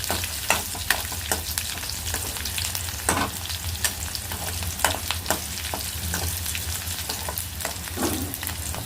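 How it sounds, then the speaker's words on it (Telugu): Chopped onions fry in hot oil with mustard seeds and cumin, giving a loud, steady sizzle with crackling pops and frequent sharp clicks of a spoon stirring the pan. "ఆవాలు జీలకర్ర మంచిగా చిటపటాన్న ఇప్పుడు ఆనియన్ వేసాము"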